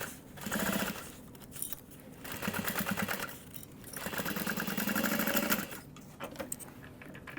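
A domestic sewing machine stitches a half-inch seam on a tote bag. Its motor whirs in several bursts of steady rapid needle chatter with short pauses between them, moderately quiet and close, with no talking.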